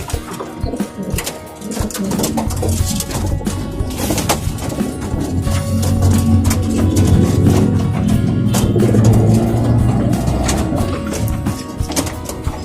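Racing pigeons kept for single-toss training cooing repeatedly in a loft, soft rolling coos overlapping from several birds nearby, with some rustling and background noise.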